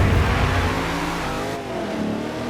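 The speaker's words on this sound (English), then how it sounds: "So this is me driving the Jeep." A Jeep Wrangler powered along in Forza Horizon 2, its engine droning loud and steady with rising revs and a slight tonal drop partway through, no voices present.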